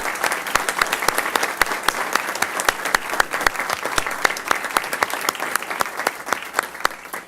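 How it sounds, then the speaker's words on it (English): A room full of people at a city council meeting claps steadily and warmly for several seconds, the applause even and sustained without cheering. "Please give her a big round of applause."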